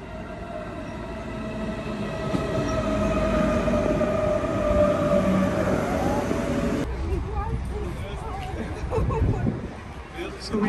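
A train rumbles and squeals as it pulls into Tegernsee station in Bavaria, Germany, brakes hissing, with a murmur of people talking in the background.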